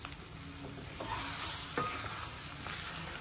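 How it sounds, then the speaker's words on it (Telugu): Goat brain fries in a pan on a low flame with chilli powder and mutton masala, giving a steady hissing sizzle with a few scraping stirs of a spatula. "సిమ్లోనే పెట్టి ఒకసారి ఫ్రై చేద్దాం."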